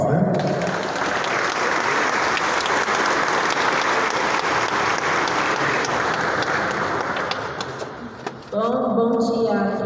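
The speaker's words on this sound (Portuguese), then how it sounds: "nós também a acolhemos com uma salva de palmas" A round of applause greets a speaker at an archdiocesan formation gathering, steady dense clapping filling nearly ten seconds before fading, with a voice beginning to speak as it ends.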